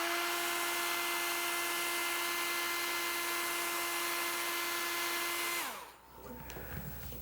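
A heat gun warms motorcycle seat upholstery material with a steady, moderately faint whirring hum, then winds down and cuts off near the end, leaving quiet handling noises.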